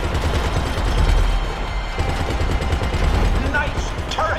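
Rapid turret gunfire in GTA Online Arena Wars, a loud, sustained stream of shots over rumbling vehicle noise, with a brief voice calling out near the end.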